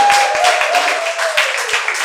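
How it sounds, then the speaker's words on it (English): Applause from an audience at a literary book prize evening, a dense, steady wash of clapping that holds at even loudness for about two seconds, with a faint tonal whine running underneath. "Can we just get like a round of applause?"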